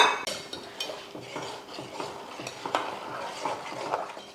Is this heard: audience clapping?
no